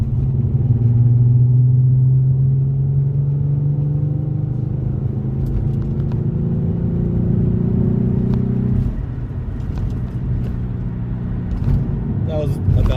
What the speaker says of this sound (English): I'm going to do about a half throttle pull.